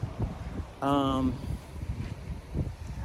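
Gusty wind buffets the microphone under a person speaking, with a brief high tonal sound in the middle.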